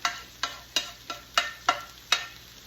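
A spoon stirring fried cabbage and butter noodles in a pan, making rhythmic scraping strokes about three times a second. Each stroke is close and distinct over a faint sizzle.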